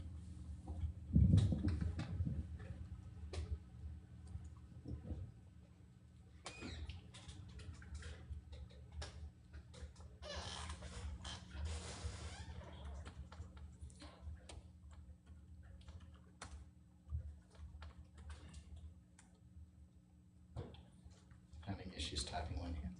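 Scattered clicks of a computer keyboard being typed on one-handed at a coding meetup, quiet irregular taps with pauses between bursts, under faint room noise and some talk.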